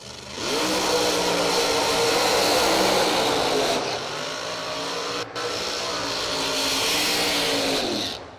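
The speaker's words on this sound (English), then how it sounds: "Boy, laying down some big, long, smoky burnouts out there" A Pro Modified drag car at Cecil County Dragway screams through a long, smoky burnout at the Yellow Bullet fall race, its tires and engine roaring in a sustained, harsh wail that dips briefly midway, then surges again before cutting off.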